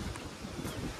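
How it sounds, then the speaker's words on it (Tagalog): Strong outdoor wind buffets the microphone in a brief, low, rumbling rush that stays faint and steady with no other sound on top. "Kusog kayong hangin, oy."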